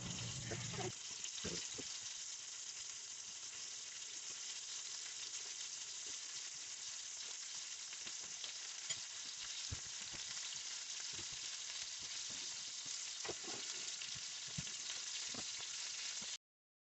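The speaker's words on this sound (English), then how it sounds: "You want to have your cast iron at a pretty high heat, as you can tell, because you're going to sear all sides." Meat sears in a very hot cast iron pan, a steady close hiss of frying that runs the whole time with occasional faint knocks and stirring touches.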